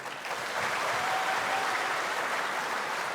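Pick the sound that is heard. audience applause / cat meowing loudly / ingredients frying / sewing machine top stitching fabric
audience applause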